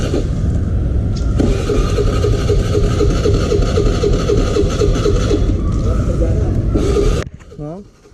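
A motorcycle engine runs steadily at idle with a constant low, throbbing drone, then cuts out abruptly near the end, leaving a brief quieter tail.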